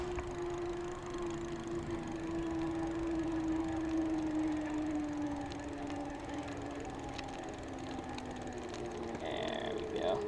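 A Clean Republic Hill Topper electric bike kit motor straining up a hill, a steady whine that sags slightly in pitch over rattling and road noise, with a faint click near the end.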